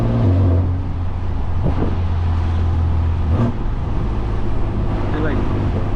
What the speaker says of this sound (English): Bro, this thing sounds so like good,